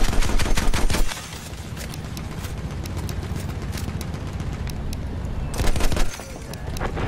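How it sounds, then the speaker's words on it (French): Rapid machine-gun bursts rattle loud and close in Battlefield 1, dense rhythmic shots at the start and again near the end, with a noisy battlefield roar between bursts. "Ils me tirent dessus."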